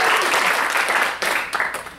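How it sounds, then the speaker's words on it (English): Theater audience applauding at a live fringe festival show in Los Angeles, a dense, steady clapping that swells briefly near the end before tapering off. "So give yourselves a round of applause."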